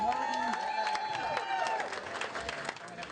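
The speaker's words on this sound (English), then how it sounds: "please give our next judges a round of applause" A crowd at a charity dueling disco event bursts into sustained applause for the judges, dense clapping mixed with cheers and whoops, fairly close and continuous for a few seconds.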